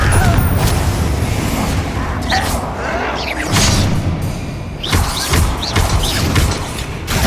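Blasting spell explosions from the Hogwarts Legacy video game, loud booms and crashing bursts repeating over dense, noisy battle ambience, with brief voice moments mixed in.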